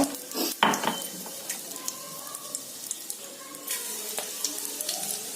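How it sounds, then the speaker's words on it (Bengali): Steady sizzling of cumin seeds and dried red chillies tempering in hot oil in a wok, with a few sharp clinks and scrapes of a utensil near the start. "কড়াইয়ে তেল দিয়ে দিয়েছি। তেলে হচ্ছিল একটু সাজিরে, একটু শুকনো লঙ্কা ফোড়ন"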